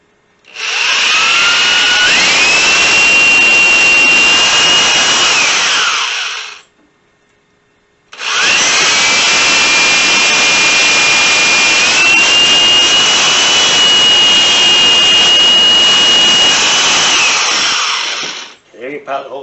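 A power drill boring pilot holes for a booster build, running in two long, steady, loud whining runs separated by a brief pause, close up with no talk over it.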